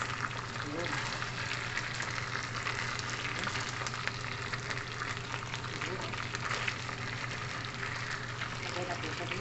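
Beef for bistek Tagalog sizzles steadily in a hot pan, a dense, even crackle of frying that holds for the whole stretch at a moderate, close level.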